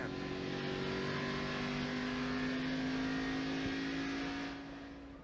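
Onboard engine of Wally Dallenbach's NASCAR race car at the 2004 Mr. Goodcents 300, a loud, steady high-speed drone with strong engine harmonics, easing slightly near the end.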